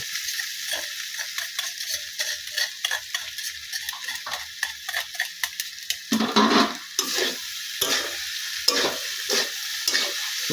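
Homemade flour noodles go into a pot of boiling water, giving a bubbling hiss broken by quick clinks and taps of a utensil against the pot, with no one talking.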